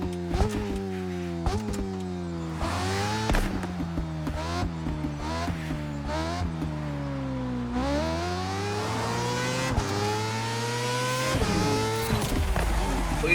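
A Kawasaki Ninja H2 superbike engine in the racing game The Crew Motorfest revs and shifts repeatedly, pitch climbing and dropping through gears, loud and close with a brief burst of tire noise.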